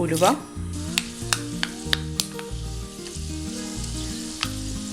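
Hot coconut oil sizzles and crackles in a pan as fenugreek seeds splutter with a few sharp pops, while low tonal background music plays throughout.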